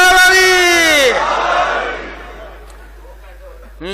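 A crowd at a religious celebration in an imambargah roars a chanted slogan back in unison, a loud sustained mass shout that swells and then fades into a murmur.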